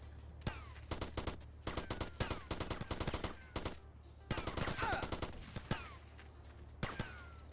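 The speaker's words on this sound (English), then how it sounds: "I can hear where his bullets are coming from, man." Gunfire in the video game GTA Vice City comes as loud, rapid bursts of automatic fire, several volleys in a row separated by brief gaps, with sharp single shots near the end.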